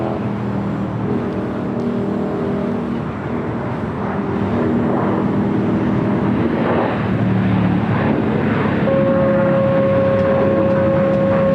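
A WestJet Swoop airliner landing on runway 25 left at LAX, a sustained loud engine roar with a rising whine and steady tonal hum building toward the end, heard from a distance over outdoor background noise.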